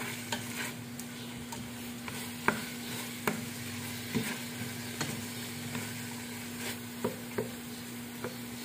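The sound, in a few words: stir-frying meat with salt for Mongolian barbecue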